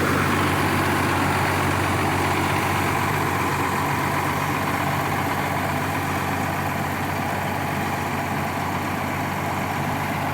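Engine of a very old truck idling steadily and close, a constant low rumble with no speech over it.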